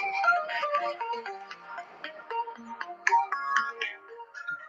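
A phone ringtone plays a bright, repeating melodic jingle, loud and close, cycling through its tune for several seconds with no talk over it.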